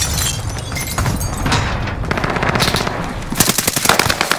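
Rapid video-game gunfire, loud machine-gun bursts with sharp repeated cracks that grow denser toward the end, close and without talk.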